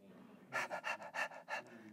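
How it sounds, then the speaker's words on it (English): A dog pants in quick, rhythmic bursts, about half a dozen sharp breaths in a row, close and fairly quiet after a brief hush. "When a dog is panting, or any other animals that pant, they're displacing heat through their tongue and their breath."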